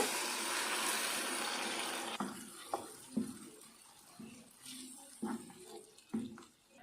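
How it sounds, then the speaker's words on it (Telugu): Water poured into a pan of fried chilli powder gives a steady, close rushing splash for about two seconds, then settles into quieter intermittent clinks and scrapes of stirring. "ఇప్పుడు మనం దీంట్లోకి వాటర్ వేసుకుందాం లైట్గా"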